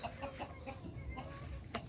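Several chickens in a breeder house on a farm cluck softly and continuously at a distance, with occasional louder squawks over a low, noisy background.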